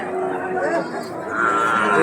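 Young calves at a cattle market low and moo amid crowded market chatter, with people talking close by throughout.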